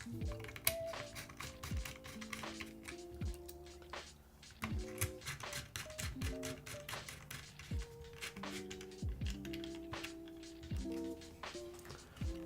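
Keystrokes on a KVD Craft Lilith mechanical keyboard, quick irregular clacks in bursts with short pauses, close and fairly crisp, playing under background music with a few tonal notes.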